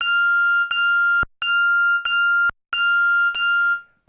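Waldorf M synthesizer plays higher notes on its 16-bit waveform: a series of bright, buzzy sustained tones in short held phrases separated by brief gaps, clean and close with no talking.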